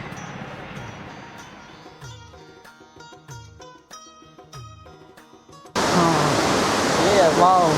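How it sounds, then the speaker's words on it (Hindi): Fast-flowing river water from a clear trout stream on the road from Kalam to Mahodand Lake in Swat, Pakistan, first faint beneath music-like tonal sounds, then bursting in as a loud, steady broadband rush near the microphone. "बहुत ही तेज़ फ़्लो था पानी का"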